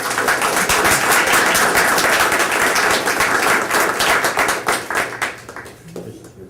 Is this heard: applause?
yes